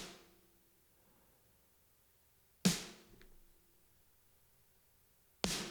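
Blended snare drum samples crushed hard by a compressor give two sharp, snappy hits a few seconds apart, each with a short bright burst and quick decay, surrounded by quiet.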